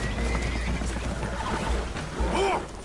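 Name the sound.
spooked horses neighing, from video game Red Dead Redemption 2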